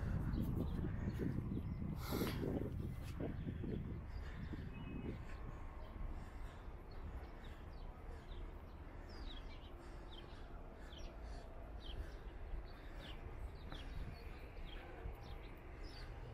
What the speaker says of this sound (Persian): شما صدای پرنده ها رو احساس میکنید؟ خیلی دلنشینه.